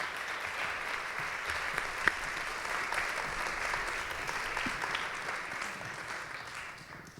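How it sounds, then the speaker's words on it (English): Audience at an evening poetry and prose reading gives a sustained round of applause for the readers, steady dense clapping that holds level and tapers off slightly at the end. "Again, one more round of applause for our amazing readers."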